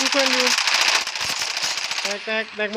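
Rapid automatic gunfire in the Delta Force video game rattles in dense, loud bursts, broken up by short tonal game sounds and a voice near the end.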